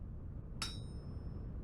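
A single sharp metallic clink of a hammer striking copper on an anvil while smithing in Vintage Story, bright and brief with a short ringing tail over quiet low background hum.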